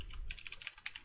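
Quick, light keystrokes on a computer keyboard while entering text into a web page editor, a steady patter of near clicks with no voices.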